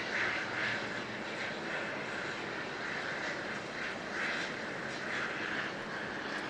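Jetstar airliner at Auckland Airport in fog, engines starting up with a steady whining roar at moderate distance, continuous and without speech.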